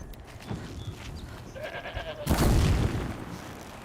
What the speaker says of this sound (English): We're gonna kill a goat until we get the one thing we need.